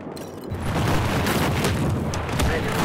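Airburst explosions in the Battlefield 4 video game, a dense rumbling series of booms and crackling blasts that swell after a brief quiet start and roll on continuously.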